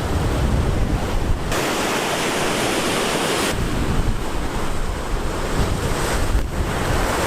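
Ocean waves break steadily on the shore of Dauphin Island, Alabama, near a beach house, a loud continuous surf roar heavily buffeted by wind gusting across the microphone.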